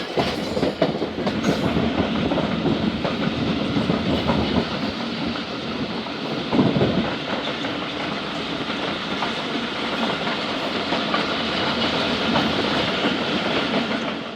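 The Khyber Mail passenger train pulls into Multan Cantt railway station, a loud steady rumble of rolling carriages with rhythmic clattering over rail joints that continues without a break, with no voices.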